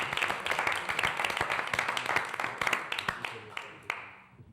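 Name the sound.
applause at a city council meeting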